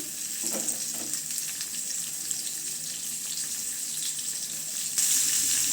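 Chana dal, mustard seeds, cumin and sliced onions frying in hot oil for a potato curry give a steady, close, dense sizzling hiss with no talk, swelling a little louder near the end.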